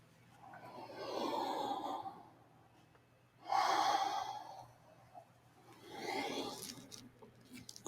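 Slow yoga breathing in a tabletop position: three long, soft breaths drawn in and let out, close and fairly quiet, each a breathy rush with pauses between and no speech.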